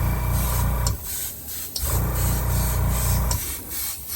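Spray can laying a light base coat on a studio-scale Star Wars Death Star silo tower model, three loud hissing bursts, each about a second long, separated by short gaps.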